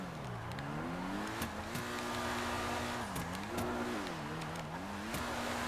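A Pegassi Infernus Classic drifting in GTA 5 Online, its engine note rising and falling as revs swing through a handbrake slide, steady and mid-loud with brief tyre scrapes.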